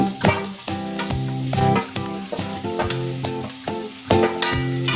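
Onions, tomato, ginger and garlic sizzle while being stirred in a hot pan for a chicken dish, a steady frying crackle with repeated stirring scrapes beneath prominent tonal background music.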